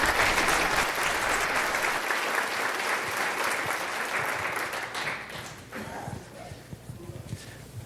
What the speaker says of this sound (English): Just another round of applause, please, for Derek, Steve, and Tina.